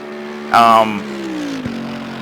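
A Mercedes-AMG EVO GT3 race car engine droning at Monza in Assetto Corsa Competizione, a steady mid-pitched hum that rises sharply into a loud, brief rev burst, then settles back into a continuous engine tone with a quick gear change.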